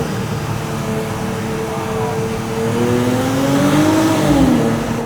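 Engine of a 2025 Nissan Z NISMO sports car driven in manual mode, a loud, close drone that swells as the revs climb, then sweeps up and drops near the end as if between gears.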